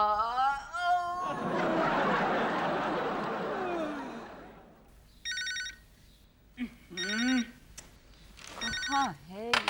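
A telephone rings in a home in repeated short bursts with gaps between them, following a stretch of louder noise, with faint voices and light laughter nearby.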